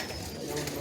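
Pigeons in a home loft coo softly and continuously in a brief, faint murmur, close but low in level, with no speech.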